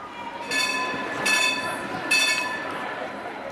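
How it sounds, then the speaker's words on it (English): Croydon tram running in a Roblox game, a steady rolling rumble with three bursts of bright metallic squeal from the wheels, fairly loud and continuous. "So we're out on the trams"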